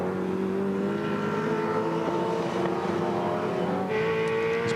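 V8 supercar race cars at Eastern Creek in the 2001 Shell Championship Series, a loud sustained high-revving engine drone with shifting pitch as cars race past, continuous and close.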